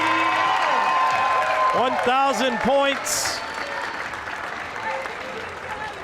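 Girls' high school basketball crowd in a gym roaring and applauding after game-tying foul shots, a loud sustained cheer and clapping under an announcer talking, with a short whistle or horn burst partway through.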